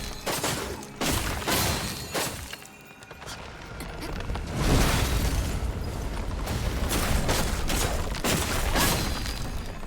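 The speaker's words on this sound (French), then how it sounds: "on aurait dit que l'explosion de mon masque avait repoussé son bras" A mask explodes against an enemy in the action game Wuchang: repeated sharp bursts and crashing impacts, then a denser, louder rumbling barrage amid busy game noise.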